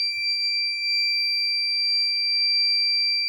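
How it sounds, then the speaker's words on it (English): A transformer health monitoring system's over-temperature alarm buzzer sounds a steady high-pitched electronic tone, continuous and even, shrill and unwavering, with no other sounds around it. "Still the temperature is 41, so buzzer is on."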